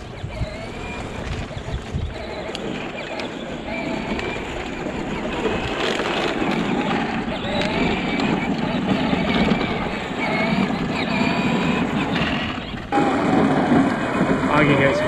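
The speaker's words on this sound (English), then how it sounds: "I probably can't even use this audio because of the noise in this tractor." A tractor engine roars loudly and continuously at a campsite, its steady rumble filling the scene as people talk over it.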